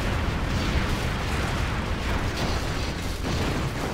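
A helicopter rocket barrage in the video game Command & Conquer Zero Hour, played with a USA helicopter force, sounds as a dense, continuous roar of overlapping explosions and rumbling impacts, loud and unbroken throughout.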